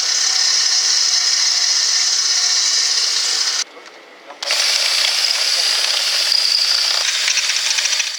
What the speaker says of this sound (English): And then drill the rivets out of the old bracket.